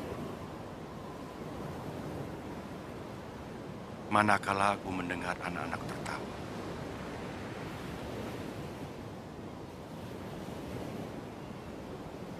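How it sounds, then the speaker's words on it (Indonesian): Ocean waves on a shore roar as a steady, broad rush of surf throughout, while a voice speaks briefly in the middle over the noise. "dalam gemuruhnya ombak samudra"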